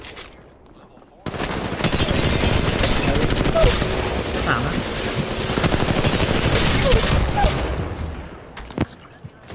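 Sustained automatic gunfire in the Apex Legends Mobile video game, a loud dense burst of rapid shots lasting several seconds, with a voice talking over it.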